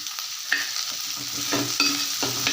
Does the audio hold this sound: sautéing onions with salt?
yes